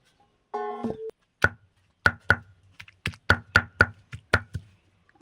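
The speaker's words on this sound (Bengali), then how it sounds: "আম, ধনেপাতা, কাঁচা লঙ্কা একসঙ্গে শিলে বেটে নিচ্ছি" Raw green mango, coriander leaves and green chilli worked on a stone grinding slab, giving about a dozen loud, sharp knocks and thuds in an uneven rhythm, close up, after a short humming tone at the start.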